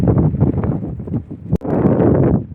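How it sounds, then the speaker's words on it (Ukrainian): Strong wind buffets the microphone in a constant roaring rush, with a brief sharp knock partway through. "Вітер, вітер."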